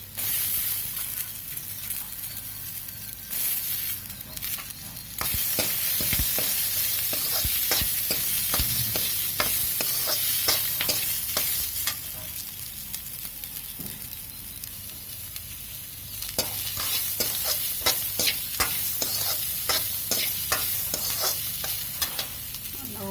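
Broad beans stirred and sautéed in oil in a pan, a continuous close sizzle with frequent scraping and tapping stirs of a spoon, loudness rising in stretches as the beans are tossed, no talking.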